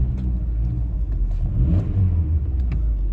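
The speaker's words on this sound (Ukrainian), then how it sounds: "Двигун працює, звук трошки змінився." A car engine idling after a fault code is cleared, a steady close low rumble with a slight rise in revs midway and faint clicks, no talking.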